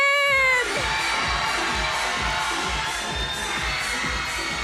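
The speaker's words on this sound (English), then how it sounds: "We're gonna make some noise for Michael Dacey." A live audience at a phobia-themed comedy night screams and cheers for the chicken contestant, a loud sustained wall of high shrieks and crowd roar running steadily from just after the start to the end.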